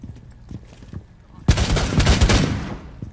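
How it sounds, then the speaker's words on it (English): A flashbang grenade goes off in an Arma-style tactical shooter game: a sudden loud bang midway, followed by a dense burst of rapid gunfire and crackle, after quieter scattered shots and faint background noise at the start. "Flashbang."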